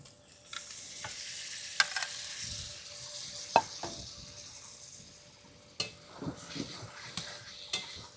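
Lote fish (Bombay duck) tipped into a pan of frying spice masala, a soft sizzle underneath scattered clinks and scrapes of utensil against the pan, fairly quiet overall.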